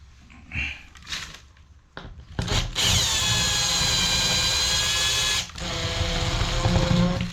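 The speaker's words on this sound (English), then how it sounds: "Probably don't do that with an impact driver, probably just nip that with a hand screwdriver." A power tool drives a screw into a washer fitting. After a few short bursts there is a loud sustained whirring run, then it stops briefly and starts again. No one speaks.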